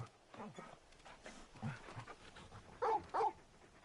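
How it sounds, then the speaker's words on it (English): A large dog in the video game Final Fantasy XVI pants and whimpers under and between talk, ending with two louder, short yelping whines close by. "You're just a big puppy, aren't you?"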